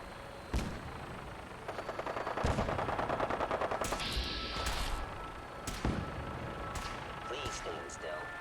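Gauss rifle fire from the Fallout 4 video game: a few sharp shots mixed with rapid bursts of gunfire, a cracking high burst in the middle, and distant thumps.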